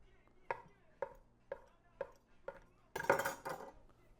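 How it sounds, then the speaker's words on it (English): A knife cuts through a loaf of bread in five evenly spaced, crisp chops, then a longer, louder burst of cutting and clatter at the end. "We'll just cut up the whole loaf and we'll get it all thrown in there."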